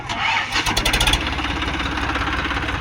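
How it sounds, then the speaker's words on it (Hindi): An Eicher tractor stuck in the field roars loudly as its engine turns over and revs in quick rhythmic pulses, then settles into a steady throbbing run. "यहाँ पर ट्रैक्टर फंस गया है 480।"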